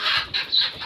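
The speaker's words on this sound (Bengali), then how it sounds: "এখানে 40টা মুরগি আছে, বাইরে 40টা আছে," Native desi chickens on a small farm of about forty birds give a quick run of soft, close clucks lasting under a second, with no one speaking.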